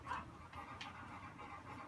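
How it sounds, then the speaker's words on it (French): Dog panting in rapid, steady breaths with a faint whimper, close by indoors during a gaming session, no talking over it. "mon chien est là"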